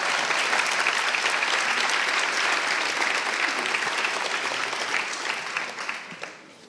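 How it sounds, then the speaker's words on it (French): Warm applause at a thesis prize award ceremony in Strasbourg, a full room clapping steadily before gradually thinning and fading out toward the end. "des petits applaudissements"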